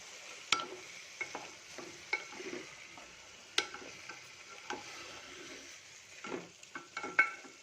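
Tomatoes with freshly pounded cinnamon and clove powder fry in a pan, giving a soft, steady sizzle broken by irregular clinks and taps of a spoon stirring against the metal. No one speaks.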